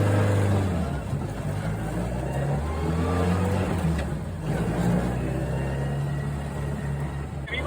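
A car driving along with its engine note steady, then rising as it accelerates, a continuous loud low hum that fills the whole stretch with no talk over it.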